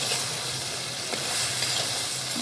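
Blue crab sizzles steadily in a hot pan as it is stirred, for a village-style crab curry; a continuous close frying hiss with no voices.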